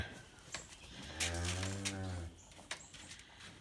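A cow in a hay-fed corral gives a long, low moo that swells and fades, with scattered thumps and shuffling of cattle moving around in the rain nearby.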